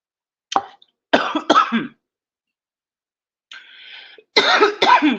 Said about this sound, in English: This cough is choking me literally.